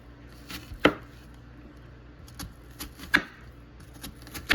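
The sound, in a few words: knife chopping an onion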